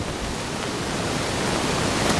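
Flood water cascades down a staircase like a waterfall after heavy rain at a hot springs garden, a loud, constant rushing roar close by.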